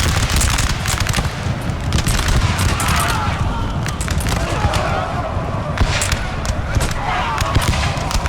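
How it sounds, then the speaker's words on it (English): Dense musket volleys crackle without pause in a Napoleonic-era battle from Napoleon: Total War, troops pelted with fire from all sides, sustained and loud with a continuous rumbling din beneath, while a voice speaks over it. "they're being pelted from bullets from all sides"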